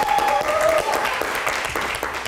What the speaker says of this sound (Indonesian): Oke, boleh tepuk tangannya penonton.